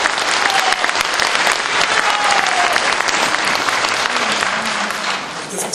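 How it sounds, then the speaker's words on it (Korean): Loud, sustained applause from a large audience at a political party rally's joint campaign speech event in Gangwon, steady dense clapping filling the whole stretch without speech. "이렇게 솔직하게 얘기하니까 다른 분들 지지하고 있던 분들이 다 박수를 치시는군요"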